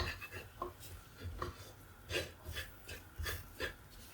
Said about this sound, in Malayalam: പെരിഞ്ചീരകം പൊടിച്ചതും അതും കൂടെ ചേർത്ത് നന്നായിട്ട് മിക്സ് ചെയ്യും